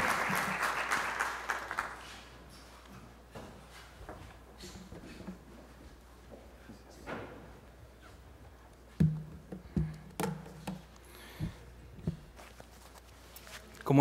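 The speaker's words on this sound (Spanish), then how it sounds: "Le damos un fuerte aplauso, por favor" Audience applause at an academic event, a dense burst of clapping for the first two seconds that quickly fades into room noise, scattered knocks and shuffling.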